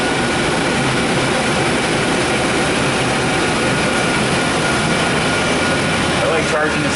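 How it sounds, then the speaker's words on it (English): A car's AC compressor runs during refrigerant charging of the air conditioning system, a loud, steady low engine drone close by that continues evenly throughout, with a brief rattle near the end. "you're going to want to keep an ear out for the AC compressor"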